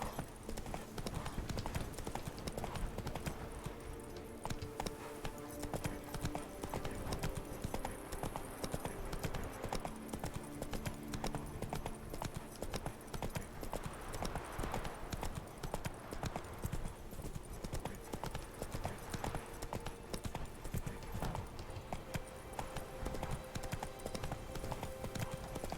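Horse hooves clip-clopping in a steady galloping rhythm in The Witcher 3 video game, loud and continuous throughout, with occasional whinnies and game music underneath.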